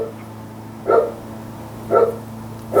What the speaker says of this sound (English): This is my face when the dog's barking.